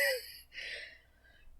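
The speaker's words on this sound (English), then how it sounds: "Sorry for the yawn, it's pretty early." A person's breathy yawn, an airy drawn-in breath easing into a softer exhale, close and fairly faint, with no talking.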